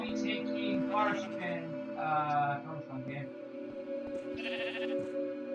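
Sheep bleat in a video game, a few wavering calls rising over steady game music and sound effects, with someone talking over them.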